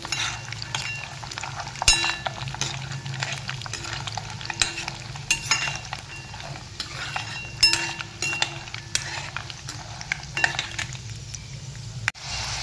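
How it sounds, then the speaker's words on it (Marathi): Peanuts frying in hot oil over a low flame in a home kitchen, a steady soft sizzle with frequent stirring scrapes and light clinks of a spatula against the pan throughout. "आता याच्यामध्ये शेंगदाणे तळून घ्यायचे, बारीक गॅसवर असं तळून घ्यायचे"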